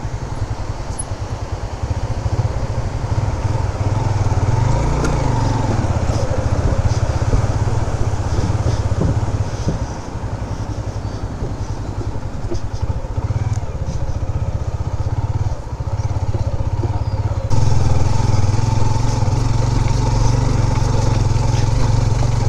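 A motorbike engine drones loudly and steadily close by as it rides a rough, rocky mountain track, with the revs shifting slightly and a louder surge near the end.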